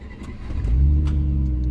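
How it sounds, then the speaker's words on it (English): A 1993 Range Rover Classic engine cranks and catches, rising into a steady, loud low idle close by after a brief starter whirr. "Car starts."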